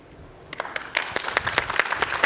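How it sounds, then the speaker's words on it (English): Audience applause breaks out after a professor's talk on gaming and healthcare: a few scattered claps at first, then a fuller burst of clapping that builds and carries on steadily, moderately close. "Round of applause for Professor Schijven."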